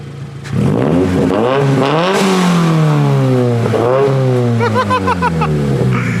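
A Toyota Supra fitted with an HKS carbon intake starts up and revs, a loud close engine note that climbs and settles into a steady high drone before a few quick blips at the end.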